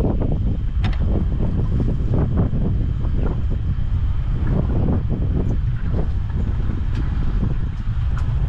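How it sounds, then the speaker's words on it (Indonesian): Strong wind buffets the microphone on a fishing boat out at sea, a steady loud roar with engine or hull rumble underneath and no clear talk. "Sebab angin dia laju."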